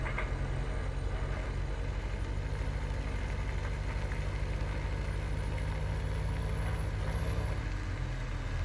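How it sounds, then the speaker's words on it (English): A truck's engine idling in Farming Simulator 2017, a steady low rumble held at constant level throughout, close by and alone without any voices. "So there's a truck right, I'm looking at it. It's right there. We have a truck."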